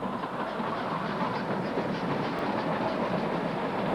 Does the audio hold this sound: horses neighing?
no